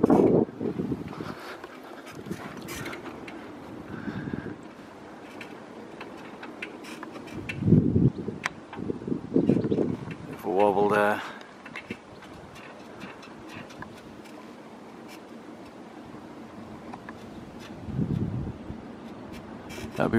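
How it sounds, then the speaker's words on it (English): Strong, choppy wind around a homemade wind turbine on a tower, gusting in uneven bursts of rough buffeting against the microphone, rising and falling, with a brief whining tone midway and no clear talking. "Wind's very choppy though"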